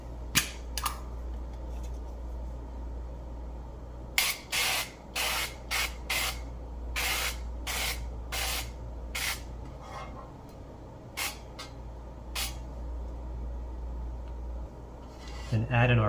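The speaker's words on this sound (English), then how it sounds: "using olive oil spray." Short hissing bursts of an olive oil cooking spray greasing a pan, about a dozen quick sprays in clusters over a steady low background hum.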